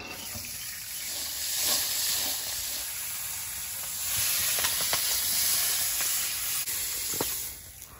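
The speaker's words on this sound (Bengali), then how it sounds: "এবার কড়াইশুঁটিটা একটু ভেজে নেব।" Green peas fry in a wok with a soft, steady hiss and a few faint stirring taps, fairly quiet and with no talk.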